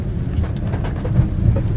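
Heavy monsoon rain pours down steadily, a dense continuous roar with low rumbling that may be distant thunder, close and loud with no talking.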